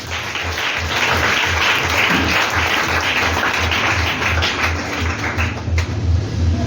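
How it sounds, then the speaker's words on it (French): A church congregation applauds in a dense, continuous wash of clapping that holds at a steady, loud level throughout, with a faint rhythmic thump underneath. "Acclame Jésus"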